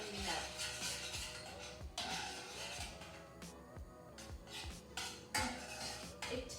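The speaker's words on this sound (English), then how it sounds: "I'm going to put my mixture on the hob and I'm going to stir" A spoon stirring a melting mixture in a pan on the hob, with repeated scraping and clinking of metal against the pan in an uneven rhythm, faint and close.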